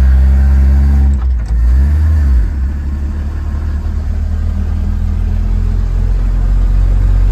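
A $300 scrapyard Chevrolet Squarebody truck drives home, its engine rumbling loudly up close, revving and dropping as gears shift early, then settling into a steady low drone.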